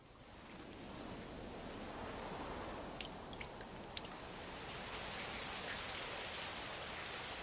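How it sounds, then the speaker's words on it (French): Artificial rain falls in an anime scene as a continuous soft hiss with a few scattered droplet ticks, low in level and steady throughout. "Une pluie artificielle?"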